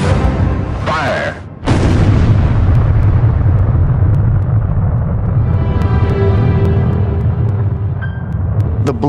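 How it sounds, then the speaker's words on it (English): The first atomic bomb test detonation erupts as a massive, sustained roaring rumble that follows a short gap, loud and deep, persisting for several seconds with crackling texture and no speech heard. "At precisely 5:29 and 45 seconds, the first atomic bomb is detonated."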